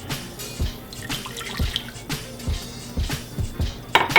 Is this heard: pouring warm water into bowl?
yes